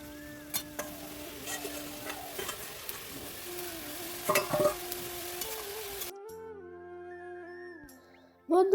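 Cabbage fries in a wok while a spatula stirs it, making repeated scraping knocks over a soft sizzle. It grows quieter toward the end and finishes with a sharp clatter.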